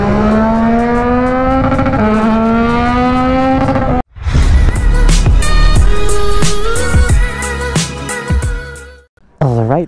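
A Yamaha XSR 900 motorcycle's exhaust revving: a steady, droning high rev for several seconds, then a louder, rougher burst of throttle, a sudden brief cut, and a final sharp blip, close and loud.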